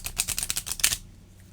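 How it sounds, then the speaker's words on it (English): A Witches' Oracle card deck being shuffled by hand: a quick run of crisp, papery riffling flutters for about a second, close to the microphone, then it stops into quiet. "one more shuffle like this"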